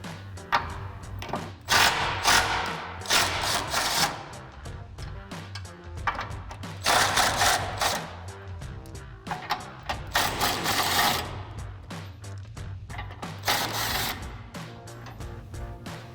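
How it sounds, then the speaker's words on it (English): A 3/8-inch impact gun with a 21 mm socket buzzes in several loud bursts while taking bumper bracket bolts off a 2017-2022 Ford F-250, with pauses and clunks between the runs. "I'm going to take my 3/8 gun with my 21 millimeter socket and remove them."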